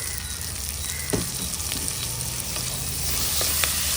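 Chopped tomatoes frying in a pan for a brinjal gongura curry, a loud continuous sizzle with occasional spoon scrapes, close and steady throughout with no talking.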